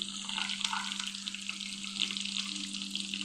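Tempering spices crackle and sizzle steadily in hot oil in a pan while cooking a bottle gourd chutney, a continuous bright frying hiss with a low steady hum underneath and no talk.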